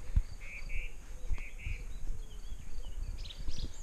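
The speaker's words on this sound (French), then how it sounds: "Vous vous baladez, vous entendez des concerts d'oiseaux." Several short bird chirps and whistles ring out over a low, rumbling outdoor background, with a few faint calls near the end.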